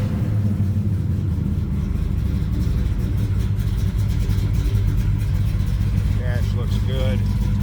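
A 1964 Plymouth Savoy engine idles steadily after a cold start, a loud continuous low rumble that stays even throughout with a few faint higher chirps near the end.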